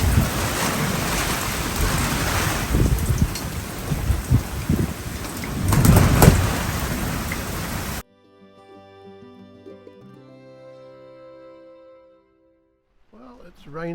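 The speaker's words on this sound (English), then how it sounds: "Heavy rain though." Heavy rain hammers a sailboat at anchor in a gale at night in the Bay of Islands, a dense steady roar with gusting swells, then it cuts to quieter tonal background sounds with a brief voice near the end.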